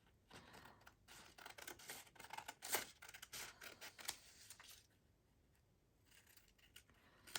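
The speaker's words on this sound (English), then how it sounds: "I'm just trimming off the excess" Scissors trim paper matchbook collage strips with a quick series of close, crisp snips over several seconds, then the cutting fades to a quieter stretch with a final click.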